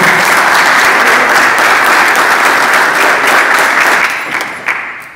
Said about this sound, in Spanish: Un aplauso para Osvaldo